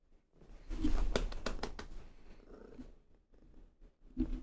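A cat purring close by, a soft low rumbling that swells and fades over a few seconds, with faint rustling and light taps around it.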